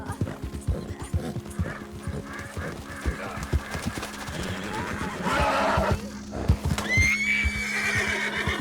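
A horse in Red Dead Redemption 2 neighing and stamping, rhythmic hoofbeats clip-clopping throughout, then a loud rising whinny near the end, close and prominent with game ambience behind.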